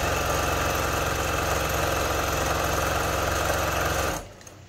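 Steady, rapid mechanical whirr of a sewing machine running a straight stitch on a cloth pad, close and loud, stopping abruptly near the end.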